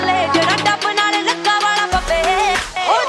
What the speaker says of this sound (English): To accompany that build-up, I added a riser